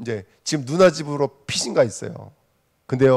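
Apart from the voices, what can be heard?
No everyday noise stands out behind the speech.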